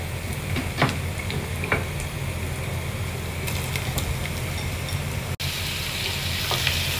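Squash frying in olive oil in a pan, a steady broad sizzle holding at an even level for the whole stretch, with a few faint clicks from stirring and one brief dropout near the end.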